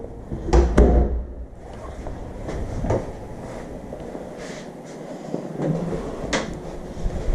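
Coat closet door just off a house's front door, opened and closed with a close wooden knock and thud near the start, then softer handling noises and a latch click later.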